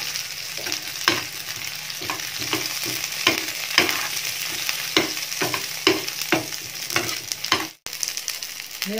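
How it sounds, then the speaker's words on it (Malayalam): Curry leaves drop into a hot pan of oil for a Goan fish curry, sizzling and spitting steadily while a spoon scrapes and stirs in repeated strokes, close and fairly loud, with a brief cut near the end. "നമുക്ക് കുറച്ച് കറിവേപ്പിലയും കൂടി ആഡ് ചെയ്യാം"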